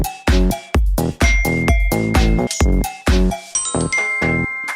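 A notification bell chimes in a quick melodic run of bright, ringing dings with short sustained tails, loud and close, with no voices.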